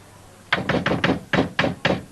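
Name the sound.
knocking on a door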